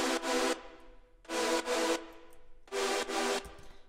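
Three loud blocks of synth chords washed in a hissy noise layer, each held about half a second, separated by brief gaps.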